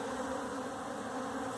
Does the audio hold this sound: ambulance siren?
no